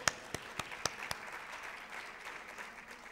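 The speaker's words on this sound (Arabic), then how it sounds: "تصفيق لها" Several loud, distinct claps ring out close by at the start of a presentation, followed by a softer spread of audience applause that carries on quietly behind.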